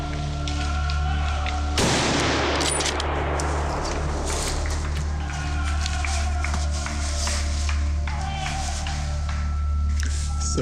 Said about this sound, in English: So I just shot the first Croatian boar